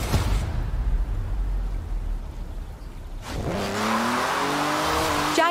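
A Jaguar driven in the racing video game Forza Horizon, its engine droning low for a few seconds, then revving up with rising tones and tire squeal as it accelerates, loud and close.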